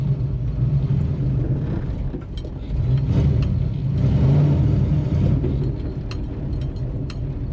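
A Chevy Nova's engine runs steadily through its first drive, rumbling low and loud up close, with the revs swelling as it accelerates in the middle and then easing back. No one speaks.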